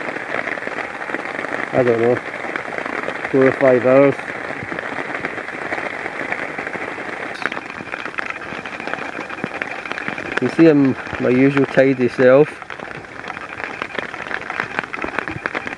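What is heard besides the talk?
torrential rain falling on woodland camp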